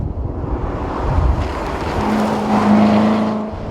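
A 2014 Chevrolet Corvette Stingray Z51 charges up a road, its engine a loud, steady roar from inside the car, rising in intensity with a sustained tonal drone toward the end.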